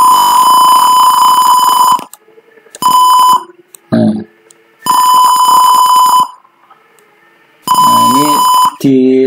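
A simulated Arduino parking sensor buzzer sounds as a steady, loud electronic tone in repeated bursts of about two seconds, separated by short gaps. Brief speech breaks in between the bursts.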